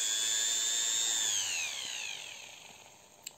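A rotary burr whines at a high pitch while drilling through a resin core, steady at first, then dropping and sliding down in pitch as it slows, fairly quiet, ending with a small click.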